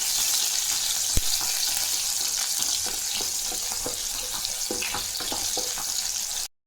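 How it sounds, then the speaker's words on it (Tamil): Small onions sautéing in hot oil for a South Indian sambar tempering, a steady close sizzle and crackle with scattered pops and light stirring, running continuously before cutting off abruptly at the end. "சின்ன வெங்காயம் போட்டு தாளிச்சோம்னா"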